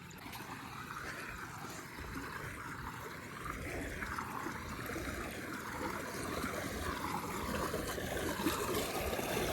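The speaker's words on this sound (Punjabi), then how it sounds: "ਪਾਣੀ ਦੇਖੋ ਕੱਸੀ ਦਾ ਬਹੁਤ ਆ ਬਾਈ" Water rushing steadily along an irrigation canal on a farm, a continuous broadband flow that grows slightly louder over time, heard alone without talk.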